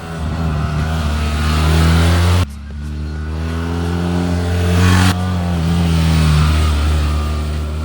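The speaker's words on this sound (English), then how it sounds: "And ride by motorcycle." A motorcycle engine revs loudly up close in rising surges, briefly dropping off before climbing again, a strong vroom with a steady low rumble underneath.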